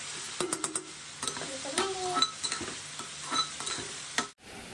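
Basmati rice with cloves and cinnamon cooking in a pot, a faint soft sizzle with scraping and stirring clatter at close range, quiet throughout and ending abruptly.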